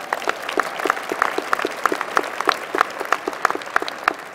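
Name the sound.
commencement audience applause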